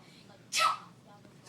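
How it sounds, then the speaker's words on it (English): A dog gives one short, sharp sneeze, a single burst lasting about a quarter second in an otherwise quiet indoor room. "You just act like you're gonna sneeze and he does it."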